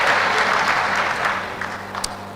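A church congregation applauding together, a steady wash of many hands clapping that holds for a couple of seconds and then thins out toward the end.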